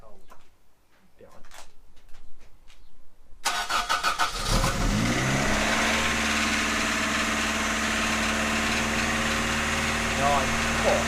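A cold Toyota MR2 Mk1 AW11 cranks over after a few quiet seconds, catches and settles into a loud, steady idle with a clattering rattle throughout, and someone talks faintly beforehand.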